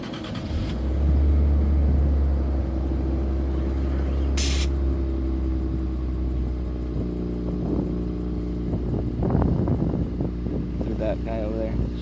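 Infiniti Q50 exhaust fitted with a Rev9 Y-pipe/mid-pipe and Helmholtz axleback, a steady deep idle drone with a low rumble that swells slightly toward the end, with some background voices.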